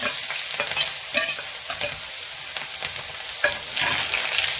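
Ginger, chili and garlic paste with a pinch of asafoetida sizzling in hot oil, a steady loud frying hiss with scraping stirs from a utensil in the pan, close up and without talk.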